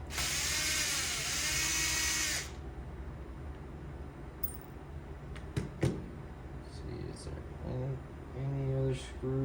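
Screws come out of a PS5 console board with a small electric screwdriver. A whirring burst opens the clip, followed by light clicks, taps and a few short motor buzzes close by at low level.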